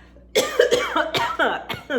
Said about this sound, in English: Excuse me, I'm gonna cough.